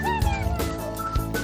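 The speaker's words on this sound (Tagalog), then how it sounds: "May pusa o malapit." A cat meows a few times close by, short tonal cries rising and falling over background chatter and clatter.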